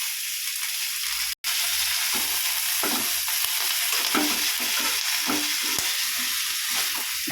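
Vegetables sauté in a hot pan, a constant loud sizzle layered with repeated scraping strokes of a spoon stirring them around.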